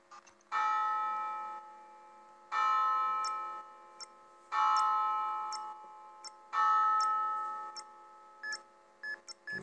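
Bell ringing in the Asylum Night Shift 2 video game: four loud, resonant bell strikes at roughly two-second intervals, each ringing out and decaying, with small high ticks and chimes between them and no talking.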